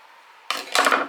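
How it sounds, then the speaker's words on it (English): Scissors snip the corner of sewn fabric, two quick close crisp cuts in a row, with no talk over them. "Just right there, I'm gonna snip that."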